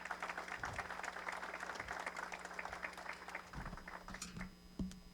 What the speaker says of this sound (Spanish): Un aplauso, por favor, para nuestros panelistas.